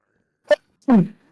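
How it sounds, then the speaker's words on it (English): One close sneeze: a sharp intake followed by a short explosive burst, loud and alone against silence. "Now I'm gonna be sneezing."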